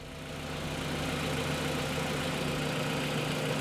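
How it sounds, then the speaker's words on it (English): Used Japanese car engine idling steadily, a smooth continuous hum heard close up without talk. "The engine's so smooth."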